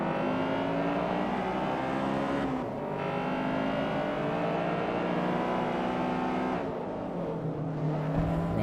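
A front-wheel-drive race car in Forza Motorsport 3 holds a high, buzzing engine note against the rev limiter. The pitch stays steady, with two brief dips as the revs cut and return.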